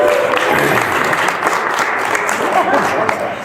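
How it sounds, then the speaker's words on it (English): Audience applause at a convention opening panel, a dense burst of many hands clapping that holds steady for a few seconds before starting to taper, loud and close. "So round of applause for y'all."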